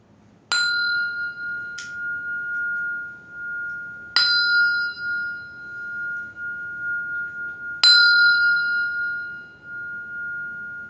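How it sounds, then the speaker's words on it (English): A meditation bell is struck three times at spaced intervals, each clear ringing tone sustaining and slowly fading over a quiet background hum, with a faint extra tap between the first two strikes. "I'm going to ring this bell."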